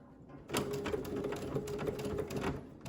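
Domestic sewing machine running steadily while stitching a tiny 1/8-inch seam on a fabric Kindle sleeve with the presser foot attached, a continuous close mechanical whirr with rapid needle ticking starting about half a second in.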